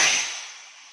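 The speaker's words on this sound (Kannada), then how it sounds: "ಇವಾಗ ಒಗ್ಗರಣೆ ಹಾಕೋಣ. ಒಗ್ಗರಣೆ ಹಾಕಿದ್ರೆ ರಸಮ್" Tempering spices hit hot oil for tomato rasam and give a bright, hissing sizzle that is loudest at the start and then fades away over under a second.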